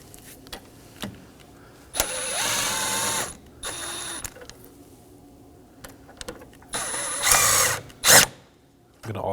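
A power tool snugs down fasteners on a vapor canister of a 2015-2023 Nissan Maxima 3.5L V6, with several short whirring bursts of a drill or driver separated by pauses and faint clicks.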